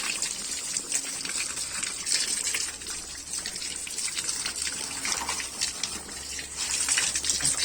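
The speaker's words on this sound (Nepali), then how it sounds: "यो खानेपानीको धारा हो।" Drinking-water tap gushing steadily as hands and feet are washed beneath it, a continuous broadband splashing rush that stays loud and close throughout with no talking.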